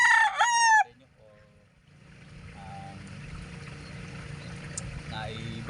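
A pet rooster crows loudly and close at the start, followed by brief clucks, then a low steady background hum with faint bird calls. Someone speaks Tagalog nearby.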